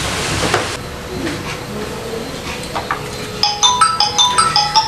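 A telephone rings in the second half as a repeating electronic ringtone of bright, evenly spaced tones, fairly clear over a noisy background after quieter rumbling.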